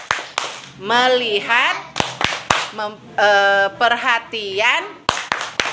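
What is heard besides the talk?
children clapping hands in a clapping game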